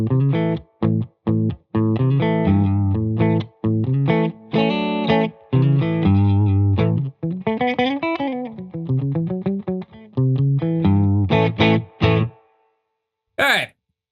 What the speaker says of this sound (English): I am running a Fidelity Guitars Stella Rosa Light 2 into a Benson Amps Monarch reverb.